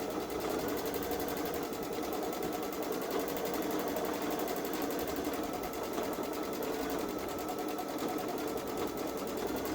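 A Baby Lock Solaris Vision embroidery machine stitches an edge-to-edge Halloween gnome quilt, its rapid needle chatter running as a steady, even whir for the whole stretch at moderate loudness, with no voices.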